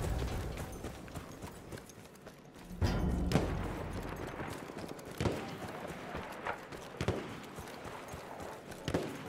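A horse gallops in the Battlefield 1 game, rhythmic hoofbeats thudding through the battle, mixed with occasional gunshots and sharp impacts.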